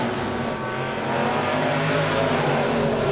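Dirt track race cars roar around Monett Motor Speedway during a heat race, a sustained loud engine howl that swells slightly as cars pass, with no voices over it.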